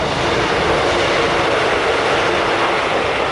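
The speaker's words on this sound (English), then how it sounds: "excuse the train behind me there." A train rolling past outdoors makes a loud, steady roar and rumble of rail cars, close and unbroken throughout, with no talk over it.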